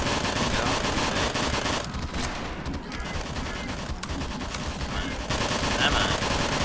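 Dense video game gunfire rattles nonstop, rapid automatic bursts layered into a loud continuous fusillade, with a voice speaking over the shooting.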